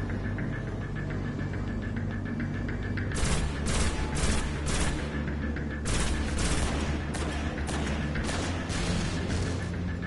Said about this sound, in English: He's currently shooting at me, so he should be able to get some pot shots